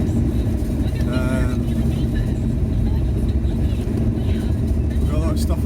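VW T4 Transporter van driving on the road, a constant loud low engine and road rumble from inside the cabin, with someone talking over it.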